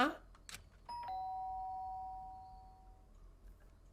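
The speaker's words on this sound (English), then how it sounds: "The sharp sound of the doorbell pierced my sleepy haze and pulled me back into the real world." A doorbell chimes in the video game Danganronpa, a clear two-tone ding-dong whose second note rings out and slowly fades, heard alone after a few brief clicks.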